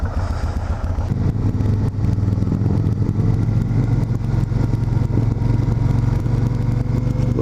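A cruiser motorcycle rides on the freeway, giving a loud, close, continuous engine drone mixed with heavy wind rumble and no pauses.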